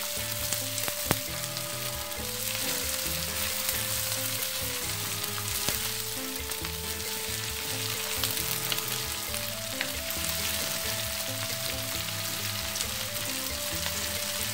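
Chili sautés in a pan for Medan-style sambal tauco with prawns, a loud continuous sizzle and crackle running throughout, with a faint tonal hum of background music underneath and no talking.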